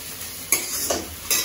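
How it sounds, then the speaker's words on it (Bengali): Sliced onions frying in oil to make birista for hilsa biryani: a constant sizzle, broken by three scraping stirs of a spatula, close and moderately loud. "মা এখন বেরেস্তাটা বানাচ্ছে।"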